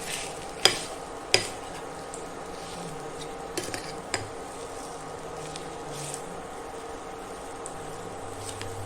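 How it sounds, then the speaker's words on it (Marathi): Vada batter being mixed in a bowl: two sharp utensil clinks near the start, then soft, steady stirring and scraping with a few lighter taps, fairly quiet throughout and free of speech. "हे अशा पद्धतीने हे सगळं मिक्स करून घ्या"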